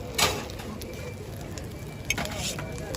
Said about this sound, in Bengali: হয়ে গেল পেঁয়াজ দিল তারপর কাঁচামরিচ কুচি